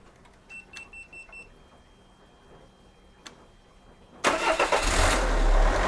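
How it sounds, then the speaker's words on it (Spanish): A car engine cranks and fires after a NEXPOW jump starter is used, following a quiet stretch with a few beeps, then settles into a loud, steady idle nearby. "Y ahí está. Ha vuelto a arrancar."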